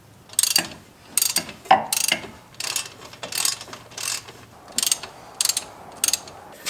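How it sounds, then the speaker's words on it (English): A ratchet snugs up the wheel hub bolts on a Chevy Suburban, with close, loud bursts of rapid clicking repeated about nine times, each short run separated by brief pauses as the bolts are tightened in turn, with no talking. "Now I'm going to use the ratchet, and I'm just going to start to snug these up."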